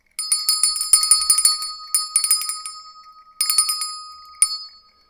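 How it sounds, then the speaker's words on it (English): A physical bell rung by hand in a home workshop gives bright, ringing metallic strikes in several bursts, a quick cluster, another pair, a third cluster and a last single ding, each left to ring out briefly, loud and close. "And I will ring the bell."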